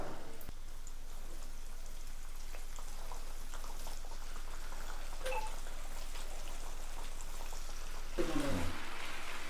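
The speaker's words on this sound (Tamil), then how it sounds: "இப்போ இதே மாதிரி பேலன்ஸ் உள்ள சிக்கனை எல்லாத்தையும் இந்த மாதிரி பொரிச்சு எடுத்துக்கணும்" Cheesy chicken poppers deep fry in oil, giving a steady, close, rain-like bubbling crackle throughout, briefly louder near the end as pieces are stirred or moved.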